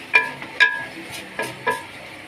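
Potatoes with green chillies, mint and coriander stirred in a pan, a few distinct scraping clinks of the spoon against the metal at irregular intervals, close and clear over a quiet background.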